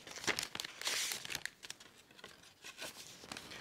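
A paper envelope is torn open and handled during the unboxing of an art book, with close crinkling and ripping bursts across a few seconds, fairly quiet and without talk.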